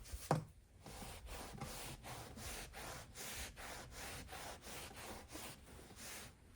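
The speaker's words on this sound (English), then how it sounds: "I can just take a rag and I can rub it off" Rag rubbed back and forth over painted IKEA furniture to wipe paint off a clear wax layer, giving a steady series of close, rhythmic rubbing strokes about twice a second, each a soft scuff, with no talking.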